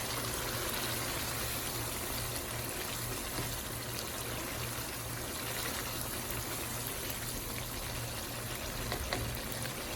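Chickpeas roasting in oil over a medium flame with splashes of water, giving a steady, close hiss and sizzle that runs unbroken throughout with no talking.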